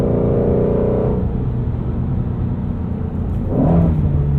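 A 2016 Ford Mustang Shelby GT350 engine pulls hard through the gears, its steady loud rumble and rising whir filling the cabin, with a shift near the end bringing a fresh climbing note.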